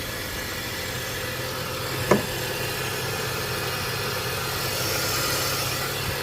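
A BMW E46 with a manual gearbox, hood open, idling steadily at close range with a smooth low engine hum and one brief knock partway through.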